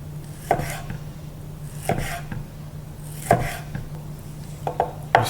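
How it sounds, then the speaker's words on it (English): A knife slices the skin off a vegetable on a cutting board while tabbouleh salad is prepared, giving a handful of separate sharp cuts spaced a second or more apart over a steady low hum. "slice the skin like this"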